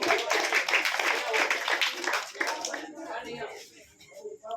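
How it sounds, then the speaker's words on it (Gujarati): An audience at a children's fancy-dress event claps for a small child dressed as Krishna, a dense burst of clapping over about three seconds that then fades, with voices talking throughout. "આ નાના કાનુડા માટે ખૂબ જોરદાર તાળીઓ"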